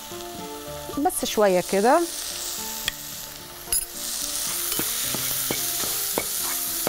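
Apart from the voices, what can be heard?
onions sizzling while being stirred and fried in a pan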